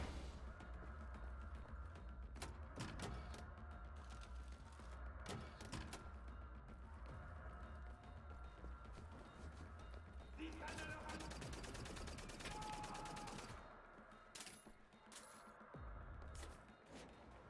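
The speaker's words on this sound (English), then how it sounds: "Weird gunfire." Gunfire in the video game Wolfenstein: The New Order, with sharp bursts of shots and clattering mechanical noise over a dense, steady game soundscape, while a voice talks now and then.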